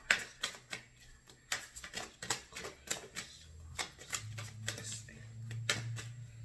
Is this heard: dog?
no